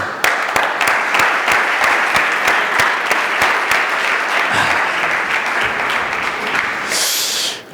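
Audience at a public-speaking conference breaks into loud, dense applause that continues for several seconds, with a brief higher-pitched burst near the end as it fades out.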